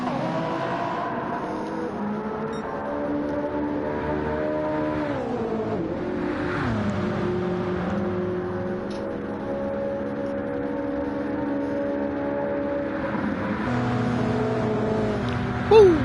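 Race cars in a Le Mans racing video game whine and rev loudly for a long stretch, engine pitch sweeping up and down through gear changes as cars pass close by, with faint talk beneath.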